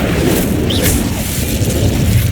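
An Incendio fire spell cast in Hogwarts Legacy bursts as a dense, booming whoosh of flame, loud and close, with a brief rising magical shimmer over a continuous rumbling fire roar.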